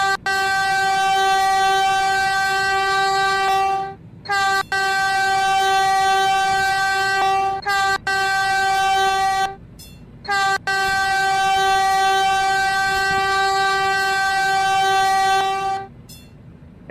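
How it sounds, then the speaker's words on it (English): A DMU Metrolink commuter train horn in the RO-Scale Sandbox game sounds in several long sustained blasts, loud and near, separated by short gaps, with no talking over it. "we're going to be hitting the horn button"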